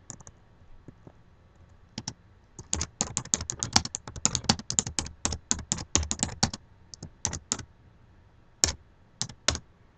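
Quick runs of crisp clicks from a computer keyboard, close and clear, with bursts of rapid keystrokes separated by short pauses and a few isolated taps.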